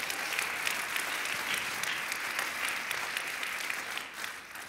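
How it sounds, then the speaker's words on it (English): A church congregation breaks into sustained, loud hand-clapping praise, a dense even wash of applause that holds steady throughout and thins slightly at the very end. "Give God a great hand clap of praise."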